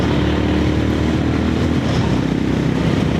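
Engine of a Honda CB350 RS motorcycle just after a downshift, a steady close, loud low thrum with a dense rumbling note held throughout, no voices.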